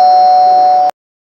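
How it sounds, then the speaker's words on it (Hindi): A household doorbell rings once with a loud, steady electronic tone that holds for almost a second and then cuts off abruptly into silence. "किसी का बार बार डोरबेल बजा के कुछ मांगना है"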